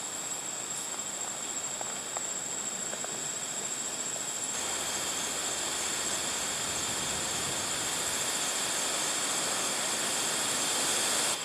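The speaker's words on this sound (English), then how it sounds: "Yeah, that's the creek." A creek flows steadily along a little-used wooded trail in a state park, a constant broadband rush of water that holds at an even level throughout with no voices.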